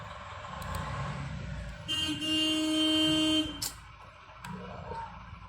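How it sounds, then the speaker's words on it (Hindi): A car horn honks in two sustained blasts, the second longer, over low traffic rumble from nearby vehicles. "कितना हॉर्न मारेगा भाई, चला जा शांति से."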